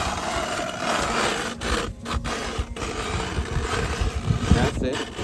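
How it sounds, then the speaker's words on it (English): Hand drilling a fishing hole through ice produces continuous rough scraping and grinding that rises and falls as the auger turns, with voices talking over it. "So we're gonna go ahead and drill our second hole here"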